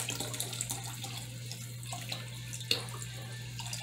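Broth poured into a pot for chicken noodle soup, a steady close trickling pour with a continuous low hum behind it and a brief clink partway through.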